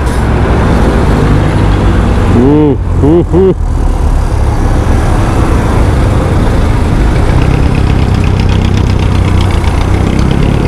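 Steady road traffic with engines idling close by, recorded from a motorcycle, a constant loud rumble with a short double horn-like tone partway through and a person speaking briefly.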